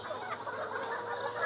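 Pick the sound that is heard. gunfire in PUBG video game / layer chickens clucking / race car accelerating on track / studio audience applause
layer chickens clucking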